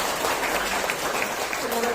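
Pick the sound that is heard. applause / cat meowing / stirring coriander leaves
applause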